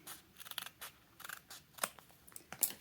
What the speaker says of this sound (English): so I'm going to cut these pretty darn thin